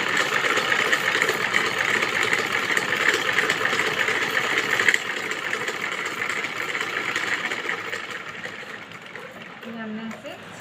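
An electric sewing machine stitches a kachli garment, its steady mechanical whirring running continuously and easing off near the end, with a voice talking over it.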